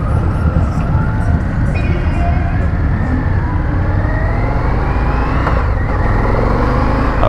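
An Indian FTR Championship Edition motorcycle accelerates hard on a test ride, its engine note climbing steadily in a loud, continuous run that stays close throughout.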